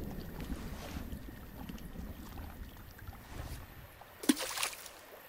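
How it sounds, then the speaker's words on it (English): In the video game The Quarry, a rock skips across lake water, landing as a single short splash against soft outdoor wind and water ambience. "You're not good at skipping rocks"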